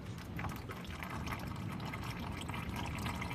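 Engine oil pouring steadily out of a car during an oil change, a continuous liquid splashing and gushing stream with no pauses, fairly close.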